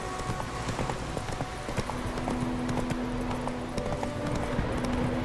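Horse hooves clip-clop at a steady walking rhythm in The Witcher 3, close and continuous, with game music and ambience underneath.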